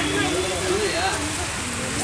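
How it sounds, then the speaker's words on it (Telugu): Heavy rain pours down steadily outside an old cinema hall, a dense continuous hiss and patter filling the background while people talk nearby. "పెద్ద వర్షం అయితే స్టార్ట్ అయిపోయింది."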